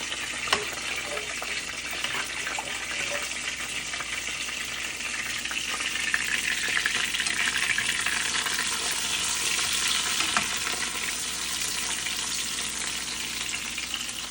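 Dal being tempered on one of three stoves going at once beside cooking pumpkin, a steady loud sizzle and frying hiss over the whole stretch with faint occasional clinks.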